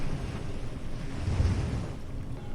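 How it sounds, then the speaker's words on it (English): A steady rush of wind and sea waves fills the air below a coastal tower, a continuous broad wash of surf and gusting air without distinct breaks. "The wind brushes softly against the tower walls."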